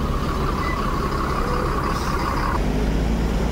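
Idling Sumatra-route coaches at the busy Kampung Rambutan bus terminal produce a low, steady diesel rumble, with a sustained higher whine or beep that cuts off partway through.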